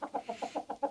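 Chickens cluck in a quick, even series of about seven close, moderately loud pulses with nothing else beneath them.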